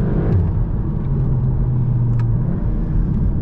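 A Volkswagen Golf R 7.5 accelerates at full throttle on a night drive, its engine a loud, close, heavy rumble heard from inside the cabin, rising in pitch as it pulls, with no talk.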